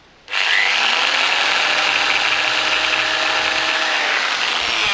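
Electric drill with a 3mm bit boring into a plastic window frame for a DIY double-glazing job, a loud continuous high whine that starts abruptly and holds steady for several seconds with no talk.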